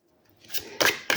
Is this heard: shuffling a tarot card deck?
yes